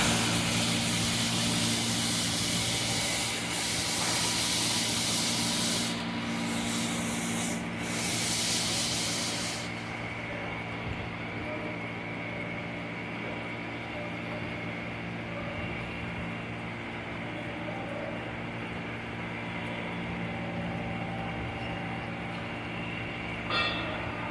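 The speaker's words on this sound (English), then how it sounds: "It's just automatically it's producing the oil, and the oil comes out automatically." Wooden marachekku cold press oil machine running steadily while pressing out oil, a continuous loud grinding, rubbing drone with a constant low hum throughout, a brief hiss fading out midway, no talking.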